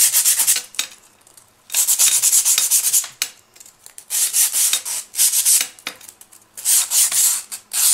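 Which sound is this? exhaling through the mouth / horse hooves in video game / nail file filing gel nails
nail file filing gel nails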